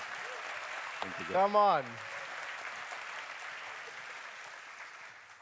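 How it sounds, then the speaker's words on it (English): A conference audience claps for a speaker walking onto the stage for a panel, making a steady wash of applause throughout, while one voice calls out briefly near the start. "You get like a rock star clap when you come in."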